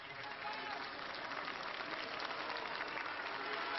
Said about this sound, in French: Jean-Paul II a quitté l'hôpital sous les applaudissements de la foule.